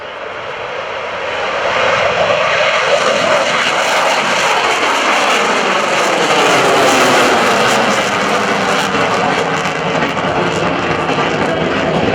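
An F/A-18F Super Hornet's engines roar up to 42,000 pounds of full thrust at an airshow at NAS Oceana, a loud, sustained, wideband blast that swells after a moment and holds.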